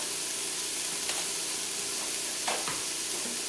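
Salted cabbage with leftover stewed pork sizzles steadily in a hot pan, and a spatula scrapes through it twice near the end of the stir, with no talking.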